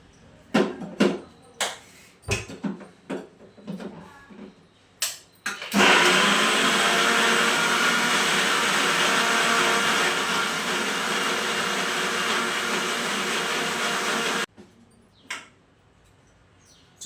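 A mixer grinder blends sweet corn into a smooth paste with a loud, continuous whirring roar of about nine seconds. Scattered clatter and knocks come before it, and a few light sounds follow once it stops.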